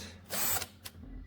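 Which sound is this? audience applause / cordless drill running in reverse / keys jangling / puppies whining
cordless drill running in reverse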